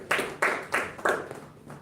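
A small meeting audience at a Toastmasters club session claps in four distinct bursts, each a sharp surge of hand claps that quickly fades, with the last burst thinning out to a few scattered claps.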